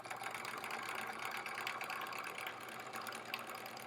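A sewing machine stitches a feather pattern into a quilt-as-you-go sampler block, a steady fast whirring chatter running without pause, faint and continuous with no talk.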